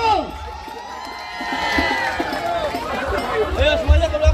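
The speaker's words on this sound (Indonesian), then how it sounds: "Tepuk tangan dulu untuk Palang Pintu." A crowd cheers and whoops for Palang Pintu performers at a welcome event for a guest, with voices and shouts rising toward the end and loud overlapping talk throughout.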